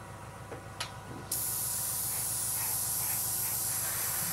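An aerosol spray can sprays paint onto a Revell 1/72 Halifax Mk.III model kit, a loud steady hiss that bursts on after a few faint clicks and holds without break.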